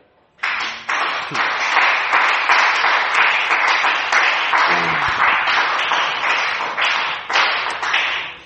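A congregation at a French-speaking church service applauds steadily for the Lord, dense continuous clapping with scattered cheers that holds loud and near for several seconds after starting abruptly.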